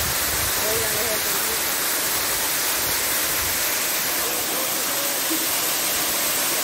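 Water gushes and roars steadily over the La Hierva waterfall at Las Chinamas, a dense, continuous broadband rush heard close up and without a break.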